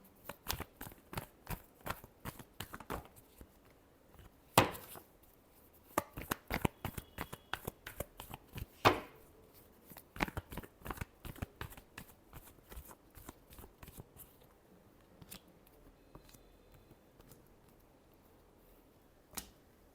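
Tarot cards are shuffled by hand during an Aquarius reading, giving a long run of quick, crisp riffles and slaps with a few louder snaps, close up and without talk.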